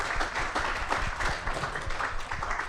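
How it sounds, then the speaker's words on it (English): A live studio audience breaks into applause, a short burst of steady, dense clapping with no one talking over it. "We give her a round of applause for that."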